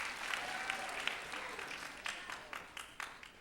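A church congregation applauds in a steady wash of many hands clapping, fairly close and full, with a few sharper individual claps standing out toward the end.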